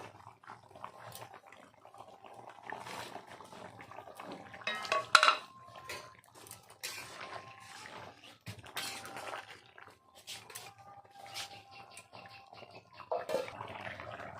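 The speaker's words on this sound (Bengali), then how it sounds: "এখন আমি দিয়ে দেবো ভেজে রাখা মাছগুলো" Pieces of fried fish clatter into a metal pan of cooked-down cauliflower and vegetables amid scraping and stirring, with a few louder knocks and a soft, busy kitchen background.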